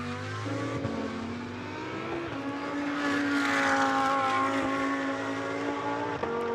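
A GT2 race car in Fanatec GT2 Series qualifying at the Algarve circuit exits turn 14, its engine a loud, steady drone that climbs in pitch as it accelerates, with no talk.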